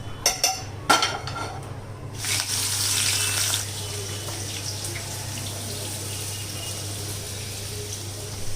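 Kebabs dropped into a pan to fry, a few sharp clanks of utensils followed by a steady, close sizzle that continues evenly, no talk.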